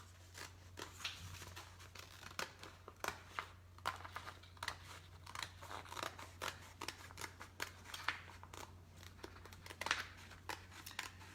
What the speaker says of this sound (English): I'm gonna cut that off, get that ready to go